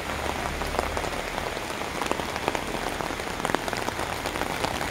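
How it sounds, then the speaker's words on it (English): Rain pours over a residential subdivision street in Davao City during a walk under an umbrella, a dense close crackling patter that stays steady and loud throughout. "Nabutan ako ng ulan."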